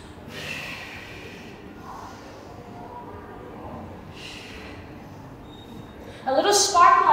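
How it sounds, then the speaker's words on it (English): Audible breaths during a Pilates mobility workout, with soft airy exhales, one near the start and one in the middle, and then a louder, sharper burst of breath at the end. "Don't be afraid to make your breath, exhale breath audible here."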